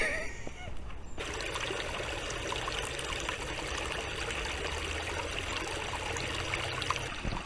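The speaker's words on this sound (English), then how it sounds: "I'm standing almost in the babbling brook" A babbling brook in St Leonard's Forest, Sussex, trickles and splashes steadily close by, a continuous bright burble of water with no voices over it.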